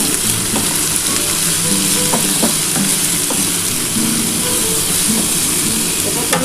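Cashews and raisins fry in a pan for vegetarian fried rice, a loud, continuous, close sizzle and hiss with occasional scraping stirs and no pause throughout.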